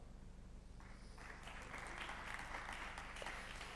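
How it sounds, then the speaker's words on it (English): Applause from a summit audience welcoming the moderator, a broad steady wash of clapping that swells after a second and continues evenly, heard faintly at a distance with faint voices beneath. "A round of applause for him."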